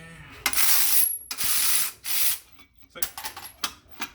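A ratchet snugs down bolts on AWD conversion brackets on a Honda EM2 Civic, giving several close bursts of rapid clicking separated by short pauses, with no talk.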